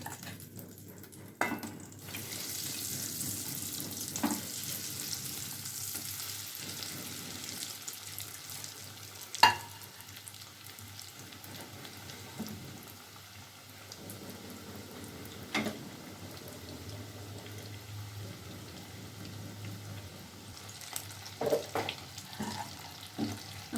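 Cheese balls fry in hot oil, giving a steady soft sizzle and bubbling hiss that runs throughout with a few small crackles and clinks, faint and without talk.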